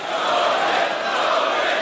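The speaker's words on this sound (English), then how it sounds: "This crowd is insane." A dense arena crowd at a Misfits Boxing event roars and cheers continuously, a loud, sustained wash of many voices with no individual speech standing out.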